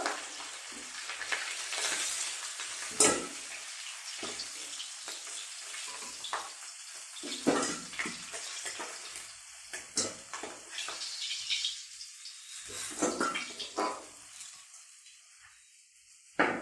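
A fish head fries in oil with a sputtering, crackling sizzle, interrupted by louder pops and clattering handling as pieces are lifted out, close and moderately loud, with no talking.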